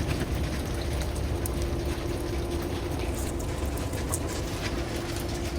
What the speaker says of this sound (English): Yep, we need the rain